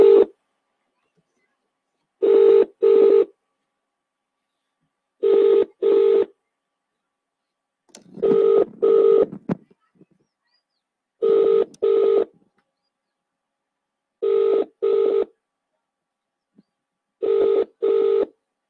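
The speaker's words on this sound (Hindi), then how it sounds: "अभी नंबर डायल हो रहा है" A phone number is dialed on a telephone keypad, producing seven clear paired touch-tone beeps spaced at a steady rhythm, close and loud with quiet gaps between them and no talking.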